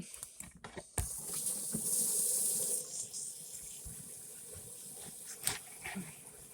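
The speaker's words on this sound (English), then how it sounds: "Put some water in there." Tap water runs into a kitchen sink during Thanksgiving dinner cooking, a steady close splashing rush with brief clatters and knocks around it.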